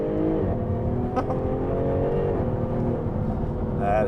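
Jaguar F-Type V6S with 380 bhp, set to its sportiest dynamic mode, revs hard and accelerates from inside the cabin, a loud continuous engine drone rising through the gears with a brief shift dip midway.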